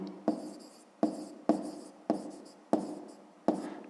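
A pen writes in a school notebook during a fifth-grade maths exercise, giving six close, crisp scratching strokes at a fairly even pace, each starting sharply and then fading, with no talk over them.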